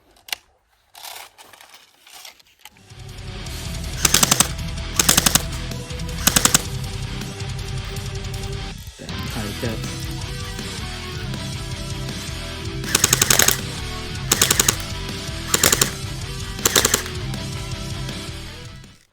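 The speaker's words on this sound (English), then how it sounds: "Now let's shoot it in full auto." CM.028C airsoft rifle fired in full auto, with several loud, sharp bursts of rapid mechanical cracks close by, separated by pauses and a steady background rattle.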